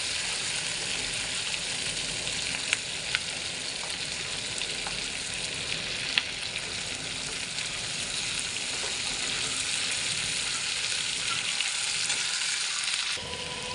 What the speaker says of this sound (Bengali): পেঁয়াজটা একটু হালকা মতো ভেজে নিলাম এবারে ক্যাপসিকামটা আমি দিয়ে দেবো